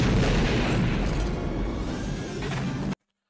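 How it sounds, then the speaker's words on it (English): A grenade explosion from The Empire Strikes Back, a dense, loud roaring blast with a sustained rumbling wash that fills several seconds before cutting off abruptly. "Oh, he's just gonna throw a grenade up"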